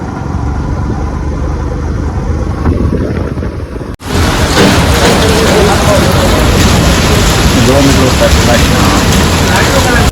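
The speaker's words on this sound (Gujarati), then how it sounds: "વરસાદ ચાલુ થઈ ગયો" Rain begins to fall outdoors, a sudden loud, dense wash of broadband noise that kicks in after a few seconds and continues steadily without letting up.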